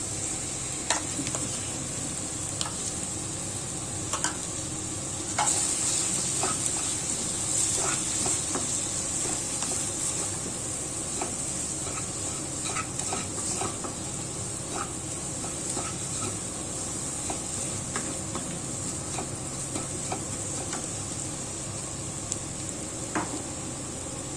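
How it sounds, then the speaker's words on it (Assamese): Eggs sizzle in a hot pan for a fish fry with lemon, a steady close frying hiss with small crackles and occasional stirring clinks, no talking. "এতিয়া এই কণীখিনি তাত দি দিলোঁ।"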